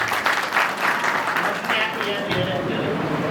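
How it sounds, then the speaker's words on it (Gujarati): Audience clapping at a Dodiya family community gathering in Chotila, a steady dense patter of many hands that carries on for several seconds with faint crowd murmur underneath. "બિપિનભાઈની આ સેવાને જોરદાર તાળી"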